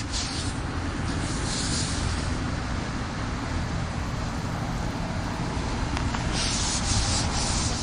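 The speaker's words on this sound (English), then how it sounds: "scrub back and forth with the scrubbing pad, and it'll get that off." Stained surfaces of a deep fryer get scrubbed hard with a scrubbing pad, a dense continuous rasping rub that stays loud and steady throughout, with no speech.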